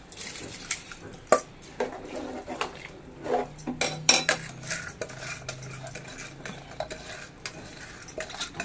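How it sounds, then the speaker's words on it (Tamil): Rice pours and rattles into a metal pot of chicken biryani masala with scattered clinks and light scraping, close up, over a faint background hiss. "இப்போ நம்ம ரைஸை போட்டுருவோம்."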